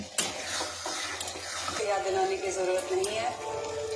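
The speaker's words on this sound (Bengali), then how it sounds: "দেখো আমরা মাংসটা দিয়ে ভালোভাবে একটু নাড়িয়ে নেবো" Chicken pieces stirred in a hot pan for Bengali-style home-made chicken, a close, steady scraping and sizzling with clinks of the spoon, running under someone talking throughout.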